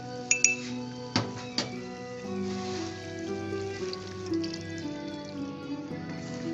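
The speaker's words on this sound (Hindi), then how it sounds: "इसको हम करेंगे अच्छे से मिक्स और इसको हम ऐड कर देंगे अब चिकन में" A spoon clinks lightly against a bowl while cornflour is mixed in for a chicken karahi; a few sharp taps early on, then softer scraping and clinking under a steady hum of kitchen background.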